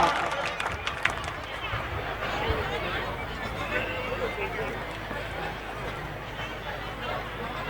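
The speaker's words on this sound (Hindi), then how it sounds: "जोरदार तालियों से स्वागत करें श्रीमान संयम जी लोढ़ा साहब" A rally crowd applauds to welcome a speaker to the stage, a steady dense wash of clapping and crowd noise lasting throughout, with a loud announcing voice over it.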